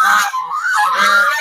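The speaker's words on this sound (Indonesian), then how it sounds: "nah, ini ada bebek yang mengganggu teman-teman." Ducks honk near a tidy cemetery path in a short series of loud, close, nasal calls that run almost without a break.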